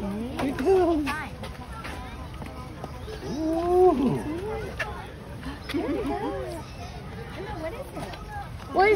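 A sea lion at a zoo lets out several loud, drawn-out barking groans in repeated bursts, close by, amid chatter from a crowd of visitors.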